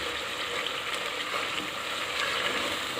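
Spiced masala sizzles and fries steadily in hot oil for an egg curry, a dense, continuous crackle that stays loud and close without pause.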